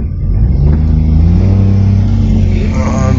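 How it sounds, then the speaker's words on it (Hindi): Car engine labouring and revving as the vehicle turns on a dangerous mountain road in Kashmir, a loud, close, sustained rumble with rising pitch. "मुड़ गई जी गाड़ी, माशाल्लाह, ड्राइवर की स्किल की दाद है जी।"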